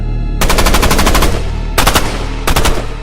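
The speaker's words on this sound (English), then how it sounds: "Suddenly, multiple gunshots fill the air." Three loud bursts of rapid gunfire, many shots in quick succession, with short pauses between the bursts.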